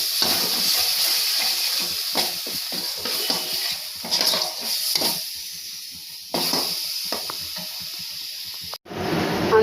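Spiced masala with a splash of water is sautéed for chital fish kalia, a close steady hiss and sizzle broken by scraping and stirring strokes in the pan, with a brief cutout near the end.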